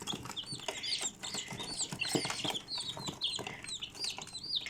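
Several chickens cluck and chirp close by, with busy overlapping peeping and soft scratching sounds, fairly quiet and continuous, no voices.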